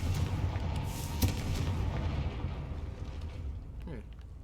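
In the Hogwarts Legacy video game, the Confringo fire spell goes off as a dense, roaring blast that rumbles on for several seconds before fading, with a brief sharp crack partway through.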